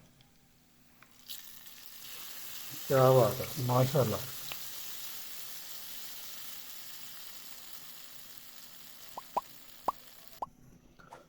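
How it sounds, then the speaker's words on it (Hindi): Hot oil tempering (tadka) sizzles for chicken haleem, a steady frying hiss through most of the stretch with a few sharp pops near the end, while a voice briefly speaks over it. "अब हम इसको तड़का लगाएंगे।"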